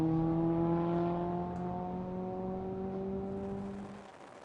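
A Lotus race car's engine drones on a racetrack alongside other cars, a steady, tonal hum whose pitch sinks slowly and fades over a few seconds.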